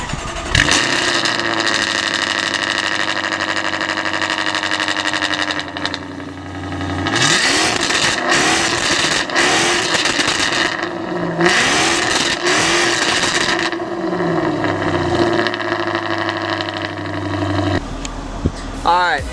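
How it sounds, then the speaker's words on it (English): Jaguar F-Type fitted with decat downpipes and an engine tune revs hard, repeated loud blips and sustained revs rising and falling with crackles between, very close and dominant throughout, cutting out near the end. "I can show you how the car sounds with the Decats and the tune on there"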